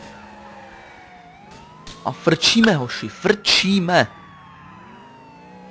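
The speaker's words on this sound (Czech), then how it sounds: "Zapneme si takhle sirény a jedeme." A police car siren wails in GTA IV gameplay, a faint sweeping tone running steadily beneath someone shouting excitedly in Czech over it.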